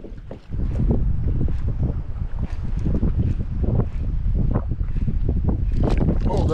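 Strong, steady gusts roar against the microphone in a continuous low rumble while bass fishing, buffeting loudly throughout with no break.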